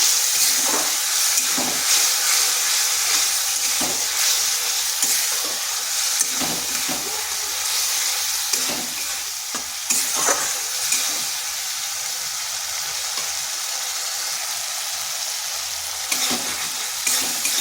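Steady loud sizzling of green chilli spice paste frying in oil in a kadai, with occasional scraping and stirring clicks throughout, no voices.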